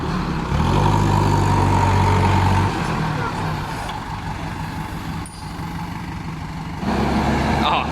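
A tractor engine runs hard at full throttle while the machine reverses, a loud, steady rumbling drone that eases off midway and then surges again, with people talking over it.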